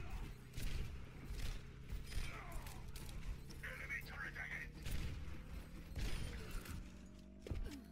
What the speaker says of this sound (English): I like how you're shooting constantly.